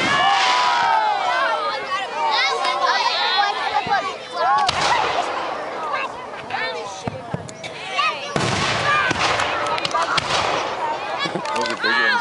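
Canada Day fireworks at Castlegreen in Thunder Bay, 2012: booming bursts and crackling scatter over a chattering crowd, with heavy explosions landing a few seconds apart and people talking nearby.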